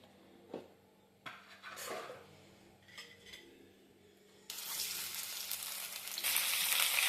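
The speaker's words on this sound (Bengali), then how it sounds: "কড়াইয়ে তেল দিয়ে মাছের মাথাটা আমি ভাজবো" A fish head frying in hot oil in a wok bursts into a loud, steady sizzle partway through and grows stronger toward the end, after a few quiet clinks and taps of cookware.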